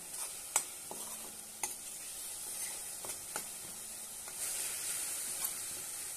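A curd and green chilli chutney, Rajasthani style, simmers in a pan with a soft, steady sizzle and a few sharp clinks and scrapes from the spoon, fairly quiet and close, with no voices.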